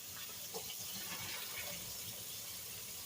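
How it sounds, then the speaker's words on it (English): Starchy soaking water drained off potatoes, a steady close splashing gush of water running continuously and fairly loud, with no talk over it. "So I'm going to pull the water off."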